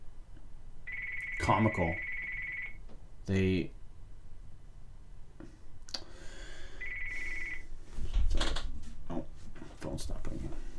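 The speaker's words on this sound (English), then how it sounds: "Phone stop ringing." A telephone rings in two bursts of steady trilling tone amid conversation, with people talking over and between the rings in an indoor setting.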